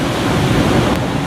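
Steady roar of surf breaking on a south coast beach near Yogyakarta, with broad continuous wash and wind noise, no distinct pauses between waves, close and loud throughout.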